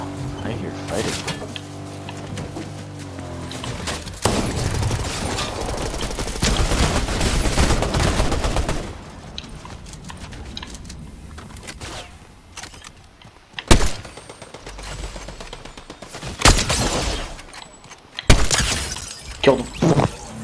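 Fortnite gunfire during a fight, with bursts of rapid shots, sharp cracks and breaking sounds from the game, mixed in with players talking over it.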